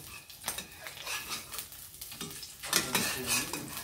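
An egg frying in a pan sizzles softly while a utensil stirs and scrapes against the pan in irregular taps, close and fairly quiet.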